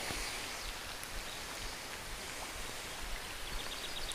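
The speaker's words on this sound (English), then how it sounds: "The rain started coming down pretty hard there for a little bit." Steady rain hisses outdoors by a river, a constant broadband patter of drops falling at moderate loudness with no voices.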